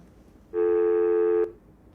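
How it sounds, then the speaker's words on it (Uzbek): A single steady electronic phone tone as a call is dialed, a clean dual-pitch beep lasting about a second, loud and close against a quiet background. "Qo'ng'iroqni amalga oshiryapman."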